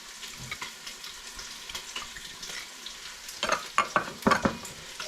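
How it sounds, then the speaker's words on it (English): Pork ribs being stirred and mixed with soy sauce and tomato ketchup make wet, squelching, scraping sounds, soft at first and then louder in a few sticky bursts toward the end. "Just going to mix that all together."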